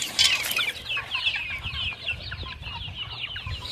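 Chickens raised for meat clucking and murmuring as they feed in a farm pen, a soft overlapping chorus of hens heard close but at low volume.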